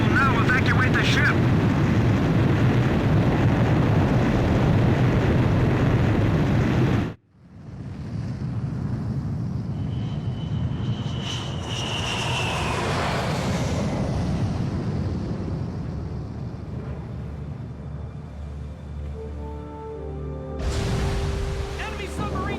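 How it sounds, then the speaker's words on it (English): In the Ace Combat 5 video game, a jet is launched from a ship's catapult: a loud roaring rush of engine and wind cuts off sharply, then a rising whine and whoosh fades as radio voices talk over it. "Aircraft launch confirmed."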